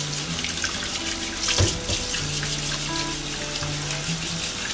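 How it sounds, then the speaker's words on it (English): Potatoes are scrubbed by hand under a running kitchen tap, the steady stream of water splashing close by with brief bursts of rubbing and splatter, and no voices. "So we get it the water, get it there. Use our hand for cleaning them off."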